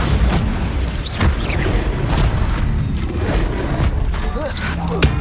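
A Bombarda spell blast in the Hogwarts Legacy video game: booming explosive bursts and whooshing magical effects crowd a busy battle mix, with a voice calling out briefly among them.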